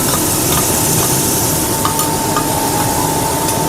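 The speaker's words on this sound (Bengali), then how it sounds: "এটা একটু নেড়ে নেব।" Hilsa and eggplant curry cooks in a pan over lowered gas, giving a loud, dense, continuous sizzle with scattered stirring clicks and a faint steady whine.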